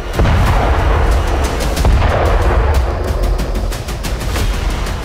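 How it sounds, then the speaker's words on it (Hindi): Rapid, dense booms and blasts roll on without pause, a loud barrage of explosions from destroyed rocket launchers and drones, layered over heavy rumbling noise. "धमाके में ये सभी तबाह हो गए, जिसकी वजह से भीषण तबाही देखी गई"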